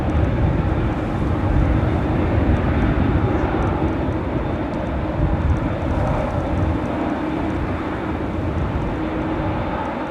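Airliner departing Manchester Airport for Dublin at night, a sustained deep engine roar holding steady and fairly close for the whole stretch.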